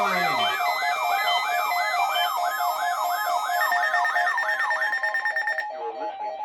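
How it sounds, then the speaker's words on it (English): NOAA Weather Radio alarm test tone from a Pittsburgh, Pennsylvania station: a loud warbling, rising-and-falling electronic siren tone repeating rapidly for about five seconds, then cutting off into a brief steady tone. "The preceding tone signals were a test of the alarm device of this weather radio station."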